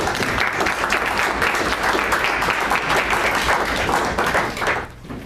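Audience applause welcoming a speaker to a lecture on Brazilian cultural economy, a steady wash of many hands clapping for about five seconds before fading out at the end.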